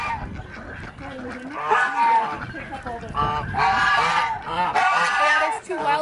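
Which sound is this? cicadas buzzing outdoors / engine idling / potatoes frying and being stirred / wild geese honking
wild geese honking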